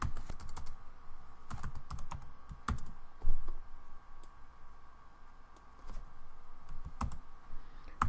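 Keys on a computer keyboard clatter in quick bursts as a formula is entered into an Excel spreadsheet, with scattered clicks and pauses between runs of typing, close and fairly clear with no talking.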